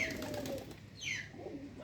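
Pigeons gathering at a feeding spot give soft, low coos alongside a few higher chirps, faint and close, with no talking.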